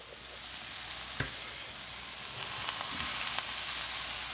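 Beef for chilli con carne sizzles and fries in a pan, a constant hissing crackle with occasional sharp pops and scrapes from stirring, fairly quiet and steady.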